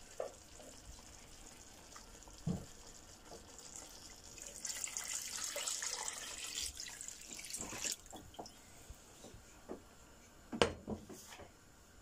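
A kitchen tap runs while a dish is cooked, steady water flow swelling in the middle with light drips, clinks and stirring sounds around it, close and fairly quiet.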